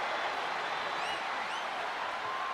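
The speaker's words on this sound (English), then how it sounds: "do you hear this capacity crowd?" Arena crowd in the wrestling video game WWE 2K25 cheering and applauding throughout, a broad sustained roar with occasional whistles rising above it.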